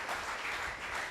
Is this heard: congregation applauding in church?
yes